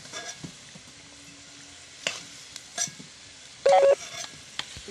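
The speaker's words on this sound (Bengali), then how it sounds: "এবার মাংসটা বসাবো।" Meat fries in hot oil in a pan after potatoes. A low sizzle runs underneath, broken by occasional clicks and scrapes of stirring and a short electronic beep near the end.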